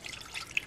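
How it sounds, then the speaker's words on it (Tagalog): Water splashing into a pot of simmering Filipino beef pares, a brief trickle with a couple of distinct drips, close and fairly quiet. "Lagyan natin siya ng tubig."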